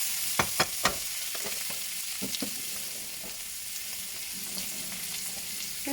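Boiled pumpkin stir-frying with chilli powder, turmeric and fennel in a pan for parangikkai poriyal, a steady close sizzle with several sharp spatula scrapes and clacks near the start and a few more scattered later.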